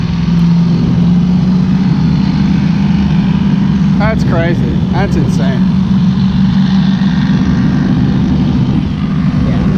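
A 2000 HP race boat engine roars loud and steady on the water, a continuous heavy drone that never lets up, while people exclaim over it partway through.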